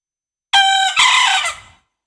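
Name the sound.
Bekisar chicken crowing, recording played by the operator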